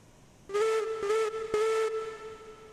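In the train simulation game Railroads Online, a steam locomotive whistle gives three close, loud blasts, the last one trailing off. There is no talk.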